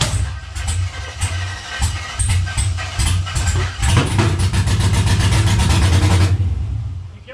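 A GM LS V8 engine running rough on dirty gas, a loud close rumble that surges and revs unevenly with sputtering pulses, then drops off as the throttle is released.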